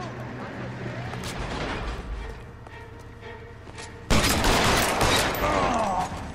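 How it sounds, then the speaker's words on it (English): Shotgun blasts ring out in the L.A. Noire crime shootout, with a heavy, sudden burst midway that stands out above a rumbling, noisy gunfight background. "Did he hit me with his shotgun?"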